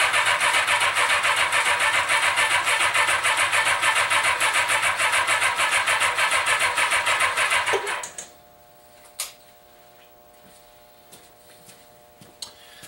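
A 1975 Honda CB550 motorcycle with a weak battery cranks loudly and continuously for about eight seconds without catching, then the starter cuts off, leaving quiet ticks and small clicks.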